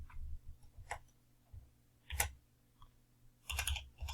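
Keys clicked on a computer keyboard while entering a Mathcad expression, a few scattered close taps in short bursts with quiet gaps between them.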